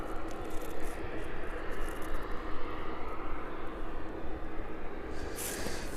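An aircraft drones toward the airport on approach, a steady broadband engine roar that holds loud and even throughout, with no voices heard.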